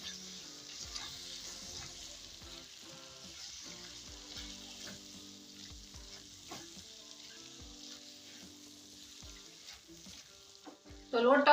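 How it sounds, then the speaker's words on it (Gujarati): Roasted gram flour and radish greens sizzle and fry in oil while a spoon stirs steadily, scraping the pan in soft, irregular strokes; close and fairly quiet, ending in a louder clatter. "અને આ લોટને આપણે ભાજીની અંદર સરસ રીતના મિક્સ કરી લઈશું."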